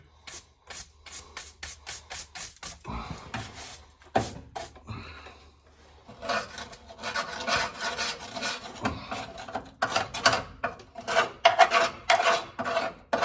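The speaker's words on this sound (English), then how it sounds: "See if I can get some of this mud scraped off of here too." Mud scraped off the drain plug of a 6.5 diesel truck makes rapid, rhythmic rasping strokes, first in quick evenly spaced bursts, then in longer, irregular gritty scrapes, close by with no talk.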